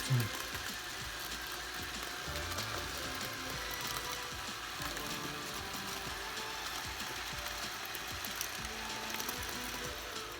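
A Magnorail model racetrack mechanism runs continuously, giving a steady, fairly quiet mechanical whirring and ticking with no speech.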